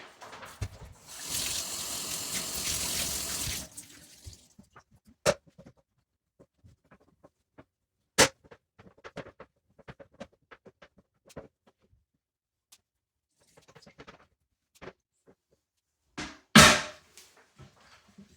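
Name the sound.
rinsing a cleaning cloth in the bathtub water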